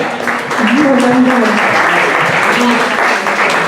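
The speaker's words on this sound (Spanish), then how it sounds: "Un aplauso, venga." Audience applause after a talk on narcissism, a steady sustained clatter of many hands with voices audible in and over the clapping.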